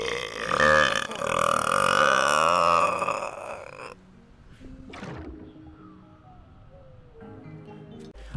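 A loud, long, natural belch rumbles close up for several seconds, rising and wavering in pitch, then cuts off, leaving faint room noise and a short thump.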